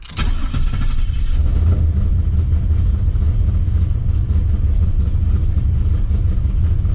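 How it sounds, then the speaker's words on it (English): A 408 LS3 V8 with a big cam idles at operating temperature, giving a loud, close, continuous low rumble with a steady, slightly lumpy pulse and no revving. "that's the best idle quality I've heard it have."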